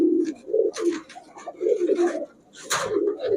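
Pakistani pigeons of nazra and kaldam types coo in a loose, repeating rhythm close by, soft throaty calls overlapping one another with a brief rustle near the end.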